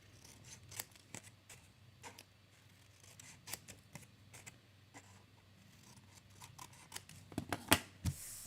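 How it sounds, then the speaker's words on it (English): Scissors make a series of quick, crisp, close snips as they trim triangle corners off designer series paper, with short irregular cuts spread across the stretch and a faint steady background hum and no talking. "I'm just going to snip off a triangle on all the corners."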